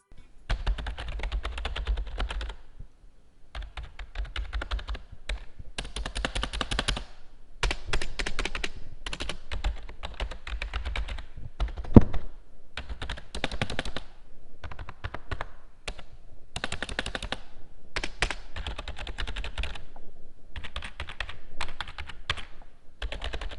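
Rapid typing on a Rakk Illuminated Keyboard v2 clatters on and off in bursts of many quick key presses, close and clear, with short pauses between runs.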